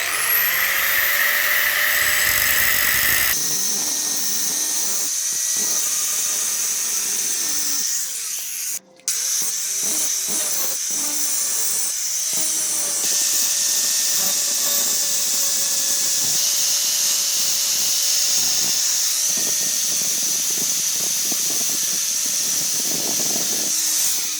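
An angle grinder with a disc shaves back blackened metal on a wrist blade, whining steadily at close range with brief dips and changes in pitch as the disc bites and lifts.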